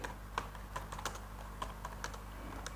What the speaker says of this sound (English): simply I will type